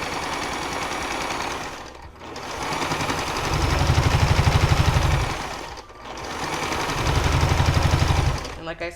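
A sewing machine stitches in the ditch on a quilt in two long runs of rapid, steady needle chatter, each building to a loud, even buzz. Two short pauses break the runs.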